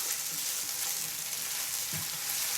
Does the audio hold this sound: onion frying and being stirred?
yes